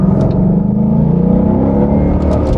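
A used Ford Mustang GT's V8 engine rumbles loud and close in a deep, steady burble that rises slightly toward the end, heard alone without talk.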